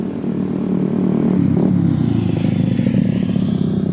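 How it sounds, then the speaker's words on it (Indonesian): Motorcycles on a roadside, loud and close, engine drone rising as one passes with a brief rev, steady traffic rumble behind. "maaf ya di sini banyak motor ya, ini lagi di pinggir jalan soalnya ya"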